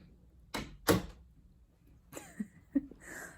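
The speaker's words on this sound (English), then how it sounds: "I'm just gonna close this door." A door is pushed shut indoors, giving a couple of dull knocks followed by softer latch clicks and small rattles, close and fairly quiet.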